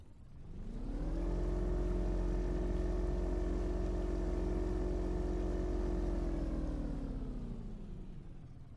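Motorboat engine in the Fishing Planet fishing game starting up and running at a steady, droning idle with a strong low rumble, then easing off near the end; no talking.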